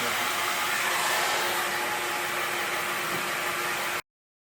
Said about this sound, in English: hair's still a bit damp, so quick go over with the hairdryer